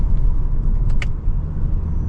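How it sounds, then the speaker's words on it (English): A 2025 Toyota Camry XSE in manual mode downshifts, its engine giving a steady low rumble from inside the cabin with a brief higher-pitched blip partway through. "when I downshift, you can hear and feel kind of that lower gear range"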